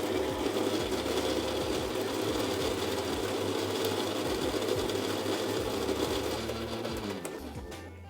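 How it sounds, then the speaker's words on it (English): A coffee grinder runs continuously on a medium fine setting, a loud close whirring grind that stays steady and then winds down in pitch at the end. "We're going to be grinding on a medium fine setting."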